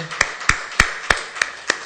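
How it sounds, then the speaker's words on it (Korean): Six sharp claps at a slow, even pace, sounding like a single pair of hands rather than a crowd. "우리 이분들 위해서 박수 한번 쳐드리겠습니다"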